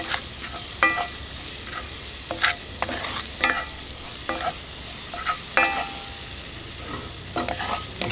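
Sauce sizzling in about three-quarters of a tablespoon of oil in a pan, with a steady frying hiss broken by repeated stirring scrapes and clinks every second or so, close and fairly loud.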